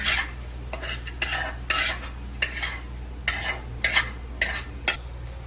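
Close, rhythmic scraping of a utensil against a pan as ingredients are lightly roasted in a touch of oil, about nine distinct strokes with a soft sizzling edge, alone over a faint continuous low hum.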